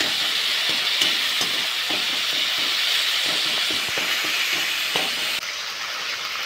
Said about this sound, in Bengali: টমেটোগুলোকে খুন্তি দিয়ে ম্যাশ করে দেবো